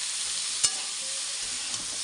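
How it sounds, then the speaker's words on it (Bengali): Pointed gourd and potato pieces fry in hot oil with green chilli and kalonji seeds, a steady bright sizzle with one sharp crackle near the start and a softer pop later. "কাঁচা লঙ্কা দিয়ে আগে পটল আর আলুটা কিছুক্ষণ ভেজে নিচ্ছি"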